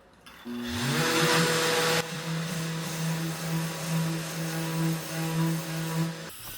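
Power sander smoothing out a deep gouge in an old wooden Stanley carpenter's tool chest: the motor spins up, then holds a loud, steady whine and rough grinding buzz for several seconds before stopping, with no voices.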